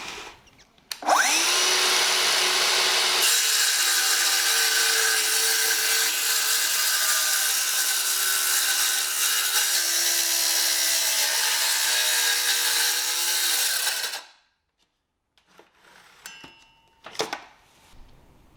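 A loud 18V cordless circular saw, Metabo KS 18 LTX 57 or Festool HKC 55, spins up and cuts steadily through wood for about thirteen seconds, then winds down, followed by a few faint clicks and handling noises.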